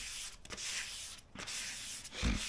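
Sandpaper at 220 grit rubbing along a diamond willow walking stick, a soft steady scratchy hiss in repeated strokes with brief pauses, close and fairly quiet, ending with a low thump.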